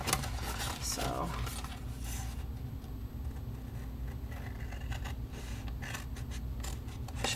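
Scissors cut through a paper box template in a papercraft project, producing steady close snipping and crisp paper rustling throughout, with a person speaking over it.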